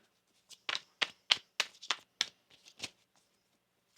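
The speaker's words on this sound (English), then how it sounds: "One more shuffle here." Tarot cards being shuffled in a quick series of crisp, papery slaps and riffles, close and fairly soft, then a pause before one final snap.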